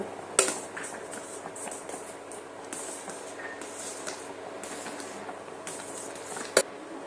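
Semolina being stirred into milk in a pan for sandesh: quiet, continuous scraping and soft swishing from the spoon against the pan, with a couple of sharper metallic clinks.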